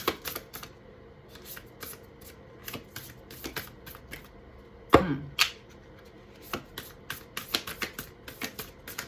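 A new deck of oracle cards being shuffled by hand, with rapid crisp riffles and flicks, some bursts louder than others, close up and alone in a quiet room.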